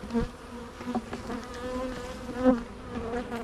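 Honeybees buzz around an open hive of a sparse colony at a marsh-side apiary, a steady close insect drone with a few louder passes as bees fly near.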